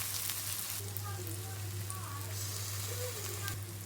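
Onion and garlic fry in olive oil for a beef stir fry, giving a soft, continuous sizzle with light stirring, close by and fairly quiet under a low hum.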